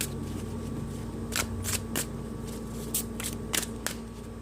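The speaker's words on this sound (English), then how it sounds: "I'm gonna get a card from the Guardian Angel Tarot deck for you" Guardian Angel Tarot cards being shuffled by hand, a run of crisp riffling flicks and soft slaps in uneven bursts over a steady low hum, close and fairly quiet with no talking.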